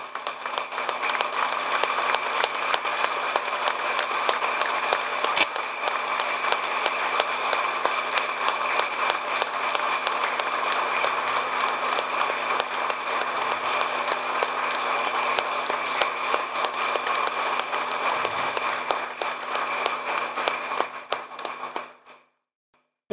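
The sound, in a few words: audience standing and applauding at memorial meeting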